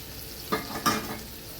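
Chopped okra frying in a pan with turmeric, stirred with a spatula: two short scraping, sizzling bursts close by over a faint steady background, with no talk.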